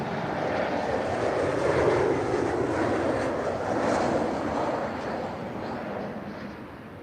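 A TAP Air Portugal Embraer jet lands at Lisbon, its engines a broad, steady roar at moderate distance that swells slightly and then eases as the aircraft rolls out.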